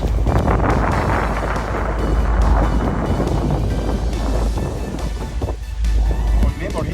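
A boat heads out into the bay off Turkey, with steady wind buffeting the microphone and a low engine rumble running throughout.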